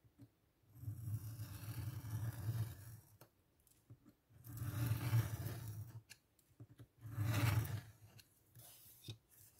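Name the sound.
scissors cutting paper for a junk journal page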